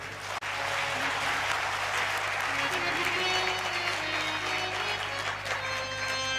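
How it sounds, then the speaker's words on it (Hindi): A crowd claps steadily and densely for Shastri ji at a Hindu religious discourse in Varanasi, a sustained wash of applause with faint tonal hum beneath and a brief dip near the start. "एक बार शास्त्री जी के लिए तालियां बजाओ बढ़िया से।"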